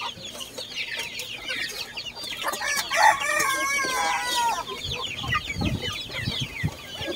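Chickens cluck busily nearby while a rooster crows once partway through, with scattered farmyard noise around them.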